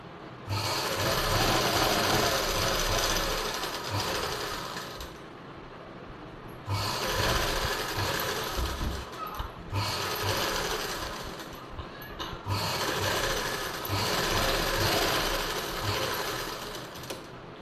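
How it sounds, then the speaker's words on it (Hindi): A sewing machine runs stitching around the edge of a blouse lining, its close, steady mechanical whirr coming in four long bursts with brief pauses between them. "अब हम इसके राउंड से सिलाई लगाएंगे, इस तरह से अच्छे से सेट कर लें।"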